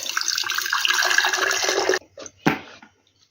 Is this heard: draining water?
yes